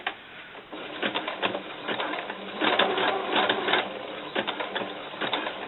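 A sewing machine stitches a doll camisole with thicker needles, running in steady rhythmic bursts of close mechanical clatter separated by short pauses.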